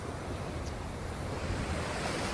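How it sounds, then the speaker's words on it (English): Ocean surf rolls steadily onto a beach in Kelantan on Malaysia's east coast, a continuous broad wash of waves with wind buffeting the microphone, no voices over it. "with a great view for everyone to see, and some soothing ocean sounds"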